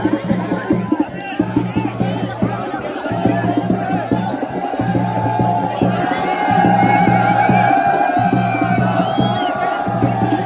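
Dense crowd at the Khairaling Mahadev fair, a packed throng of people chattering, calling and shouting close by in a continuous loud hubbub, with voices talking over it.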